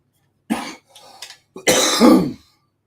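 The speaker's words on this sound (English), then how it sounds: "Sorry about the coughing." Two bursts of harsh coughing, a short hack then a longer, throaty cough, close and loud in a quiet space.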